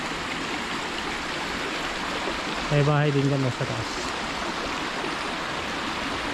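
Steady broadband rush of water flowing from a rural spring water source, continuous throughout, with someone speaking briefly over it near the middle.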